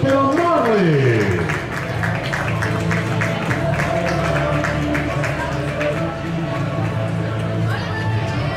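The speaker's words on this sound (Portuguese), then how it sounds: "Mais uma salva de palmas para o Marley!" At the Maia 2023 athletics meeting, a stadium crowd keeps up steady rhythmic clapping for the winner of the women's 400m, while a loud announcer talks over the applause.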